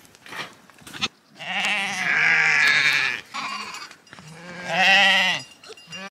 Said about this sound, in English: we're gonna put the little sheep in there, and the big ones we just take them out